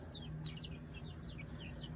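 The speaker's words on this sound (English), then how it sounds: "this is one of the little Buff Orpington breeds right here. Very friendly, very sweet-natured birds." Soft clucks and chirpy calls from small Buff Orpington chickens repeat through steady barnyard background noise, close by and at moderate volume.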